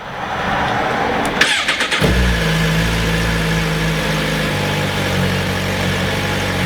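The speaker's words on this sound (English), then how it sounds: "I'm going to start the bike up and just let it run for a few minutes so that we get the oil warmed up but not hot." A 2017 Suzuki GSX-R1000R sport motorcycle engine cranks with a brief stuttering churn, catches, then settles into a steady, close idle that runs on.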